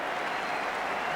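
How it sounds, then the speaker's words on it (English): Football fans at an Arsenal v Cambridge United FA Cup match applaud, a broad continuous wash of distant stadium clapping and crowd noise, brief and even. "Cambridge deserve the applause that they're getting, not only from their own fans, but from the Arsenal fans as well"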